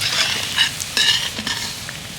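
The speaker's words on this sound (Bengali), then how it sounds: "মোটামুটি উল্টে পাল্টে ভালো করে ভেজে নিতে হবে, ভাজাটা যাতে ভালো হয়" Semolina fritters for motichoor laddu fry in hot oil, a steady close sizzle with crackling bursts and occasional stirring, no voices.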